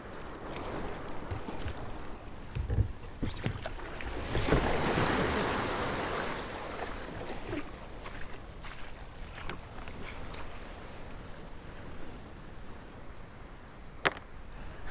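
Ocean waves wash onto a small beach beneath the Golden Gate Bridge in a steady roar with one stronger surge, mixed with wind buffeting the microphone.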